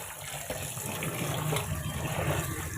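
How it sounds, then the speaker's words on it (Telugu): Raw chicken being washed under running water, a steady close gush and splash of flowing water. "ఇప్పుడైతే జల్లిగిన లేచి నీట్గా చికెన్ని కడుగుతున్నాను"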